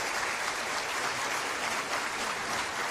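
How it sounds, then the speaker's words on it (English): Steady applause from a crowd at a game night event, continuous clapping at an even level throughout, fairly loud with no voices standing out. "Where's the applause? Where's our applause?"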